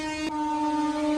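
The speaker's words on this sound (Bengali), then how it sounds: "দাঁড়া ট্রেনটা আসছে" An arriving train sounds a long, steady horn close by, holding one sustained tone throughout.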